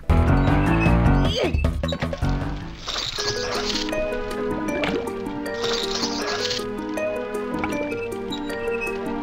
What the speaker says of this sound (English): He's gonna help us get through the swamp by water skiing.